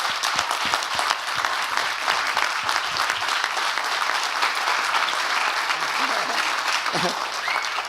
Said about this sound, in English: another big, huge hand of applause for Zahn for all the work he's done.